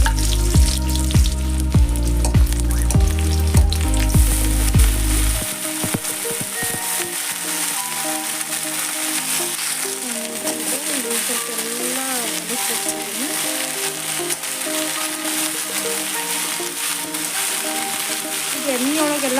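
Fenugreek leaf curry with onion frying in hot oil and being stirred: a dense, continuous sizzle with scraping stirs. Rhythmic tapping is heard only at the start, then the frying goes on alone at steady loudness.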